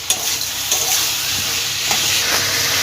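Snake gourd curry with sugar being fried on high heat, a loud continuous sizzle and hiss with a few soft stirring scrapes, close up and without talk.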